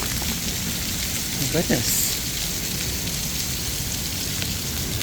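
Heavy rain in Las Vegas pours down in a dense, constant hiss, with a brief exclamation from a person partway through.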